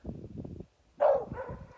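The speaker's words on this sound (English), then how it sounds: "Get over here! Quit barking!" A dog gives a single sharp bark close by, preceded by a burst of muffled low sounds, with a short follow-up yip.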